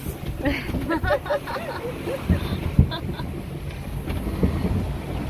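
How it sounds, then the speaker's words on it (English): Wind buffets the microphone while a J133 yacht sails at sea in the Bay of Biscay, with gusty rumbling and water noise running beneath people talking nearby. "Blowy. Wind. The wind is up. The waves are up."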